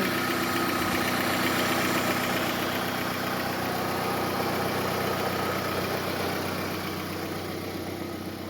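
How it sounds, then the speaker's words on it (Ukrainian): A 2003 Volkswagen Golf 4 1.6 MPI petrol engine idles steadily and evenly, a continuous mid-pitched hum with a faint rhythmic pulse, close by and with no talking. "Ось так працює двигунчик."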